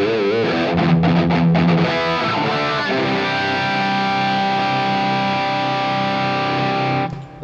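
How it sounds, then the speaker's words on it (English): A boosted, pushed Marshall 68 plexi electric guitar tone, played through a custom IR on a HeadRush pedalboard, rings out loud with crunchy distorted chords and sustained notes that fade near the end. "So there's my Marshall 68 plexi tone. It's boosted. I call it pushed. It's a pushed plexi tone with a custom IR in there."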